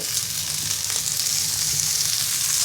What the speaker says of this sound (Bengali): এভাবে দুই মিনিট শাকটাকে ভেজে নিব